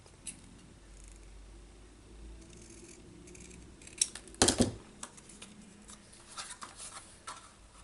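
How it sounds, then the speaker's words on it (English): Long shears snip through a peppermint patty candy up close, giving a brief crunchy cut in the middle, followed by faint rustling and handling noises. "I take a pair of long shears and cut."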